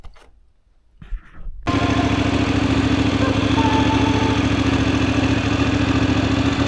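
A Voge DSX 900 motorcycle engine idles steadily and loudly after a quiet start, with a constant low hum running for several seconds without talk.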